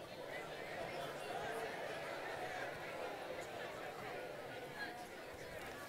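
A large youth conference audience fills the hall with a steady, even hubbub of overlapping voices as people turn and speak to their neighbors, a continuous wash of chatter with no single voice standing out.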